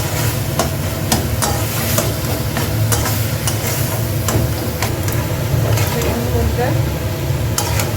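Chicken pieces fry in a pan for a chicken roll, a constant loud sizzle with regular scraping knocks from stirring close by.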